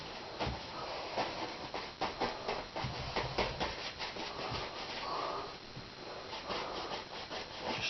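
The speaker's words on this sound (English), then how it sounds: "Scrub that colour in there." Paintbrush scrubbing watercolour paint into paper, a close, rhythmic scratchy rubbing of repeated short strokes throughout with no talk.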